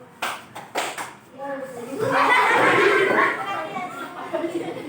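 Schoolchildren in a primary classroom clap a counted rhythm: a few sharp, separate claps ring out, then the class breaks into loud chatter and laughter with more scattered claps beneath the voices.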